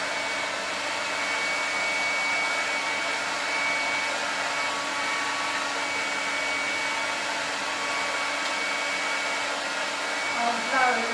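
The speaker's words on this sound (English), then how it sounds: "I'll be quiet for a minute whilst the hairdryer is going on." A hair dryer blows steadily and loudly for the whole stretch during a home haircut, its even airflow whine running alone with no talk over it.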